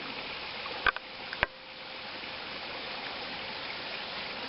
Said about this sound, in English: there's a little babbling brook down here